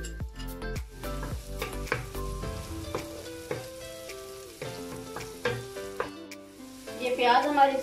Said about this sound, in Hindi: ये ऑयल हमारा गर्म हो गया। अब इसमें हम ऐड करेंगे 1 अदद चॉपकी हुई प्याज